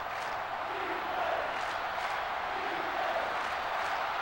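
A stadium crowd roars in the NCAA Football 06 video game, a steady broad wash of cheering at moderate level that swells slightly now and then, with no talk over it.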